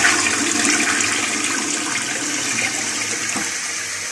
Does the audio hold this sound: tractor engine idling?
no